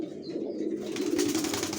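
Racer pigeons coo in a low, steady murmur that swells slightly midway, with a faint hiss of movement above, all continuous and close with no talking.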